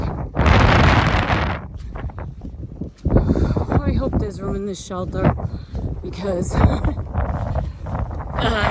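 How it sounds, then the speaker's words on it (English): Strong, forceful gusts sweep across an exposed stretch of the Appalachian Trail, battering the microphone in loud roaring bursts, a big one early then more between, while a person talks through much of it. "The gusts are crazy."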